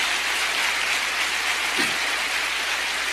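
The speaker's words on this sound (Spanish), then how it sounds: "Denle un aplauso al Señor" Dense, steady applause from a church congregation praising God during a Spanish-language sermon, a continuous hiss-like wash of many hands with no voices on top.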